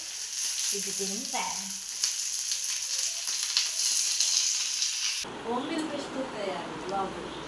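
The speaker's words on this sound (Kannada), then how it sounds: "ಫ್ರೈ ಆವರೆಂಡು ಮೀನು ಫ್ರೈ" Fish frying in a pan, a loud, close, continuous sizzle and crackle of hot oil that changes tone midway, with a voice briefly heard early on.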